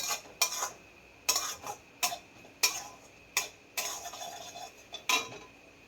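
Ridge gourd frying in a pan, stirred with a metal utensil that strikes and scrapes the pan in sharp, irregular clacks, each followed by short sizzling trails, close and fairly quiet.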